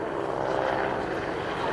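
A small helicopter at an air show, a steady rotor and engine drone that holds at an even level throughout, with a faint voice underneath.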